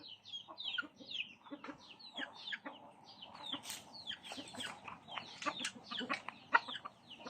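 Chickens clucking and chattering, several birds calling in quick irregular bursts close by, with no talking.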